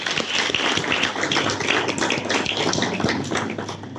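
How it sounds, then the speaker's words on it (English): Audience at an awards ceremony breaking into steady applause, a dense wash of many hands clapping close and loud, sustained without talk. "Let's give them a round of applause."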